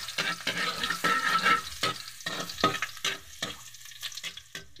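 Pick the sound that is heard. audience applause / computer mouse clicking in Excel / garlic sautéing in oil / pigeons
garlic sautéing in oil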